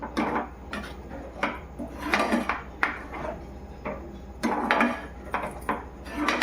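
A cooking pot of matar paneer gets its lid set on amid a run of clattering metal knocks and scrapes, several distinct clanks spaced irregularly, close and fairly loud, with no voices.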